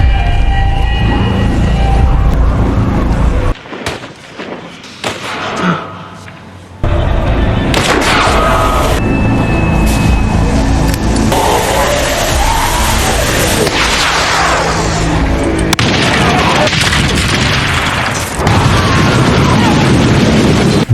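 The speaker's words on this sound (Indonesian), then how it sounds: "Carol bisa membuat ledakan dahsyat hanya dengan petasan Apollo gocengan" A loud, rumbling firecracker-triggered explosion booms close by, with a sudden dropout before heavy roaring blast noise and chaotic crackling continue for many seconds.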